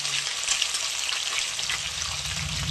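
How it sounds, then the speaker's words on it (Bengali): Fish pieces fry in a pan, a steady broadband sizzle of hot oil holding level and close throughout with no talk over it. "এই মাছ বেশি ভাজে না, তাই আমি হালকা ভেজে"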